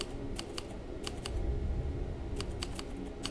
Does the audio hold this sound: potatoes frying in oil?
no